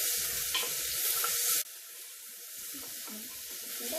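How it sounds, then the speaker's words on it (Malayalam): Onions sizzle and fry in a pan, a steady close crackle that drops abruptly in loudness partway through and continues more softly, with faint stirring sounds. "ഉള്ളി ഒന്ന് നല്ലോണം വാടി വെക്കും."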